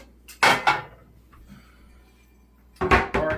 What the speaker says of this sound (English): So I'm gonna use my iron skillet for the rest of it.